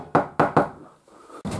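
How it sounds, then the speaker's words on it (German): Three sharp knocks in quick succession, loud and close, followed after a short gap by a fourth, duller knock. "Soll er mehr klopfen?"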